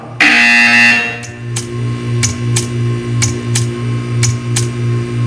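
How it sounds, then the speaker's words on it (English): In the Portal 2 video game a loud, harsh buzzer blares for about a second. A steady electrical hum follows, broken by a regular series of short ticks. "You will hear a buzzer."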